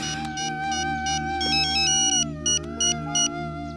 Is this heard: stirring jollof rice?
no